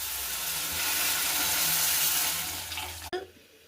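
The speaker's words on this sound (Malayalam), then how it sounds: "നമുക്ക് വെള്ളം ഒഴിച്ചു കൊടുക്കാം." Water pours into a pan of mushroom curry as it cooks, a steady loud splashing rush that thins out and ends with a sharp clink near the close.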